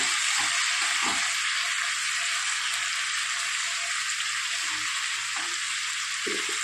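Boiled potatoes and fenugreek leaves fry in a pan with a steady, close sizzle that runs without a break. Faint stirring knocks come through now and then.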